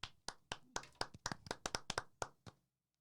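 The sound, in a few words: people clapping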